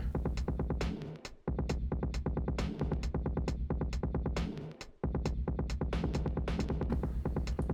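A full drum kit plays a dense, driving beat in a mix, with two brief dropouts before the rhythm kicks back in.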